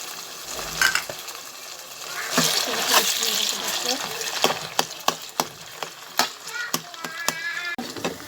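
Tomatoes and tomato paste fry in a pan for stuffed white cabbage rolls, a steady sizzle broken by repeated sharp scrapes and clinks of a spoon stirring, close and fairly loud, with no talk over it.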